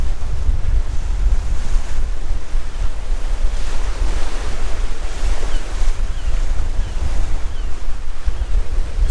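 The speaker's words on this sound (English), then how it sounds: "You've got clouds swirling on the edges and the sea crashing." Loud, continuous roar of sea surf crashing on the Anglesey coast, mixed with heavy wind buffeting the microphone, swelling and receding without pause.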